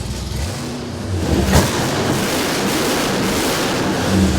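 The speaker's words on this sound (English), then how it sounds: "I think it's idling at about 800 RPM, and watch this" Rat rod engine on a dyno, loud and close, holding a steady rough roar that swells slightly as it revs up from an idle of around 800 RPM.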